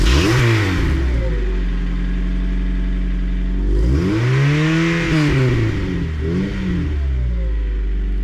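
A Honda Integra Type R DC5 with a Mugen engine revs up hard, falls back, then climbs again, its strong engine note rising and falling through gear changes, loud and close with no voices.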